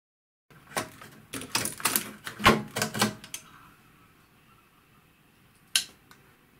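Small screws come out of a metal motor box on a Schlumberger ground test unit during a teardown, giving a close burst of quick metallic clicks and rattles, then a pause and one last sharp click.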